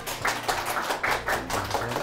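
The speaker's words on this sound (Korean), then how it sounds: "푸드 테라피스트 박찬우 소장님을 큰 박수로 모셔볼게요." Audience clapping to welcome a food therapist lecturer onto a Korean lecture-show stage, a sparse, fairly faint patter of individual claps with a few stronger beats, unaccompanied.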